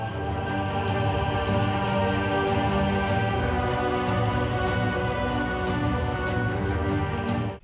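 The Witcher 'Breakfast in Beauclair' theme mixed entirely in mono, all instruments stacked front and center in a flat, dense wall of sound, steady and loud for the whole stretch with no talking.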